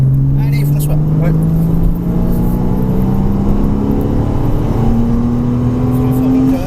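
Porsche Cayman S on the Mettet circuit, engine note climbing steadily as it accelerates, a loud sustained drone rising in pitch with a brief dip near the two-second mark, people talking over it throughout.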